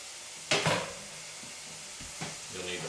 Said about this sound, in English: You'll need to flip it, the meat around, so to make sure all of it's getting cooked.